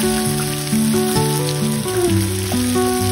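Spices and potatoes frying for a fish curry, a steady sizzling crackle under a continuous background tone.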